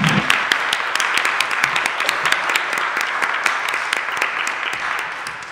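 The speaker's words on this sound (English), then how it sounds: "let's give Caleb a round of applause" Audience at a church annual general meeting applauds Caleb, a steady wash of many hands clapping at moderate loudness, with a faint low hum beneath and no voices.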